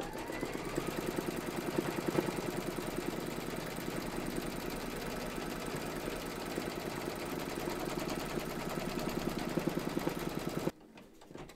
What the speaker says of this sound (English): Pop your hoop into your machine and stitch round number three to secure it